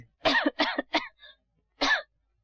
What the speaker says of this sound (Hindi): ये खांस क्यों रही हो?